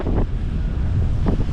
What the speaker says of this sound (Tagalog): Lalaki ng alon mga kaibigan